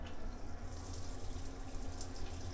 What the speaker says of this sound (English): here's the shower